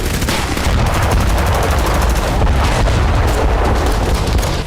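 Dense, sustained gunfire from a Russian helicopter attack in Kursk, a continuous roar of rapid bursts and booms that stays loud and unbroken throughout with no voices.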